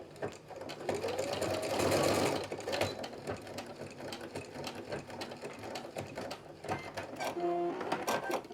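Sewing machine stitching small appendages onto a plush toy, a steady close whirring run of stitches with brief pauses and restarts as the fabric is repositioned.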